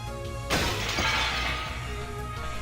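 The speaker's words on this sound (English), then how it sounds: "Battler smashed his fist into the goat's mouth, and smashed teeth bounced off the ceiling." A sudden loud crash in the Umineko visual novel game: a sharp shattering impact bursts in, then its bright, glassy debris rings and decays over a low sustained musical drone.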